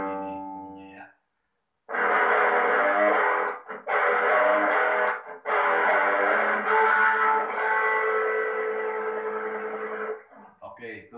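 An electric guitar plays a song intro in a tutorial setting. Sustained, bent, distorted notes come in several long phrases broken by brief pauses, with no talking over them.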